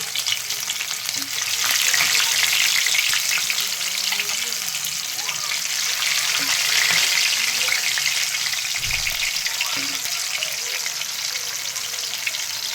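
Fish frying in oil in a home kitchen, a steady loud sizzle and crackle running throughout with occasional stirring and faint clinks, no talking.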